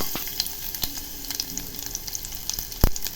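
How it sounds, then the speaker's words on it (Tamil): Garlic and cumin fry in oil inside a pressure cooker, a close continuous crackling sizzle with scattered pops and a sharp knock near the end. "பூண்டு கொஞ்சம் வதங்கட்டும் சீரகம் பொரியணும்"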